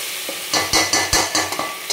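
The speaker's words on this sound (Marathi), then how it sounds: "तर छान 5 मिनिट आपलं मटण परतून घेतलेलं आहे" Mutton being sautéed in hot oil in a pan, with a steady close sizzle and a run of sharp scraping stir strokes, about six or seven spaced irregularly across the clip.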